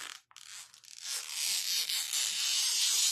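A transfer sheet is cut during a tractor-themed craft project, heard as a close, steady, rising scrape of blade through thin sheet that runs for a few seconds after a short pause.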